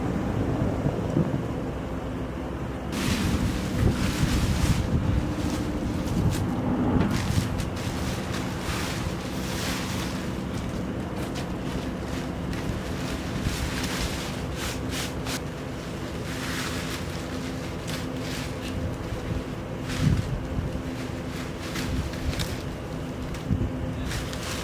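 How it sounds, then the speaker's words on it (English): Strong wind sweeping across a Saskatchewan dairy farm in extreme cold, a loud, gusty roar that buffets the microphone and surges and eases continuously with no voices. "all the wind that we get up here in Saskatchewan"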